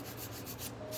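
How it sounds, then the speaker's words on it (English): A file scrapes softened structure gel off nails with a brief, faint, steady rasping rub heard up close. "I go around it with the file and get like the residue"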